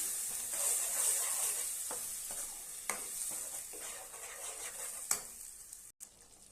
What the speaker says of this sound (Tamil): அப்படியே இந்த எண்ணெயிலேயே நல்லா வதக்கி விட்டுறலாம்.